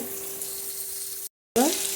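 Squash and soaked soybeans fry in oil in a pan, a steady close hiss and sizzle with a short silent gap followed by a louder burst of crackling.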